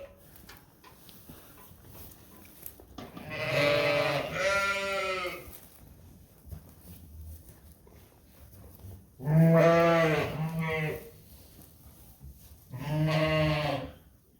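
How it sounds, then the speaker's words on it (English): Sheep bleating outdoors at a farm where Suffolk rams are kept, three drawn-out, wavering calls spaced a few seconds apart, fairly close and clear against a quiet background. "There's actually a sheep outside right now."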